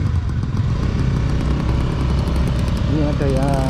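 Motorcycle engine pulling away on a road out of Malang toward Lumajang, a steady loud drone with rising revs near the end, under wind and a voice.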